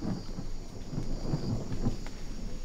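Rain approaching through a temperate forest during drought, a steady low rumbling wash with soft patter, moderately loud and continuous, with no voices.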